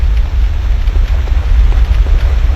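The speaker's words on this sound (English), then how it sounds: "it's raining outside." Steady rain falls outdoors in a video game, a dense, continuous wash of low rumbling patter with faint scattered drop ticks, fairly loud and uninterrupted, with no voices.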